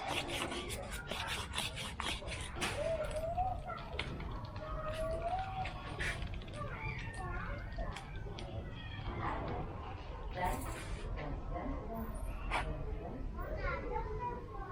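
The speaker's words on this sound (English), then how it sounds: "So we're just going to rub it with some sandpaper." A part from a Yamaha YZ250 dirt bike is rubbed with sandpaper during a clutch and water pump seal job. Quick, steady raspy strokes sound close up, with faint voices and background noise underneath.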